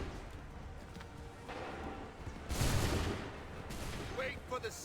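Musket volleys crack out in an Assassin's Creed III Remastered battle: two loud, broad bursts of gunfire roll over steady battlefield rumble, with shouted voices in the background.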